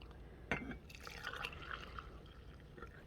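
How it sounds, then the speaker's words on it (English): Boiling water poured into a cup for turmeric tea, a soft trickling and filling sound with a small clink at the start, quiet and close. "you're going to want to add your boiling water"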